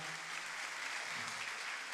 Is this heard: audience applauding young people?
yes